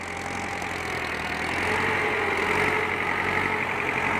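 A Ford 6600 tractor engine runs at a steady idle, a continuous mid-level rumble that swells slightly partway through, with no voices.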